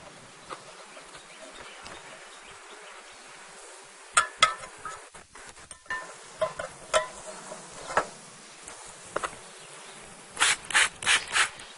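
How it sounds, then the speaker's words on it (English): Scratchy rustling and thumps as honey bees are shaken down into a hive, with sharp bursts of scraping noise and a constant faint buzzing hum underneath. "then I'm going to shake the bees down into the bottom"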